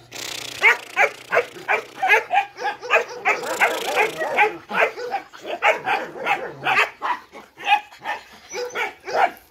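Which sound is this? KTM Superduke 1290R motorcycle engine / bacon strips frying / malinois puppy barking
malinois puppy barking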